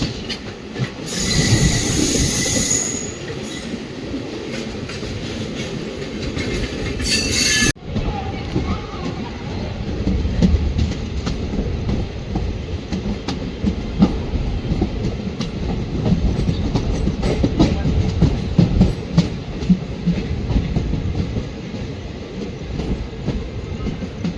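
A train rumbles along the tracks with steady rolling noise, wheel clatter and occasional squeals, loud and continuous throughout with a brief hiss early on.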